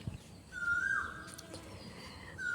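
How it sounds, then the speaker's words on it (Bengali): A bird, identified as a koel, calls once outdoors on a rooftop garden, a clear drawn-out whistled note at moderate distance over faint background noise, with a fainter repeat near the end. "কোকিল ডাকছে"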